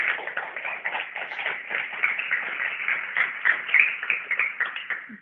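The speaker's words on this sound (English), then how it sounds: "So we'd like to honor you with a big applause right from our audience." An audience at an Indigenous history forum claps in sustained, even applause for about five seconds, a dense patter of many hands with no voices over it.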